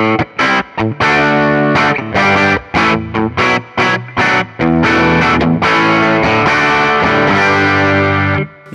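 A distorted electric guitar with Kinman SurfMaster Zero-Hum Jazzmaster pickups plays loud, saturated chords through a Fender Deluxe Reverb tube amp on the bridge pickup, first in short choppy stabs, then in long sustained ringing strums.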